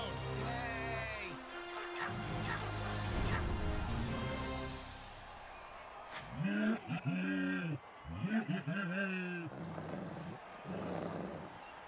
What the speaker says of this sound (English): And he breaks through for a touchdown. Listen to this crowd.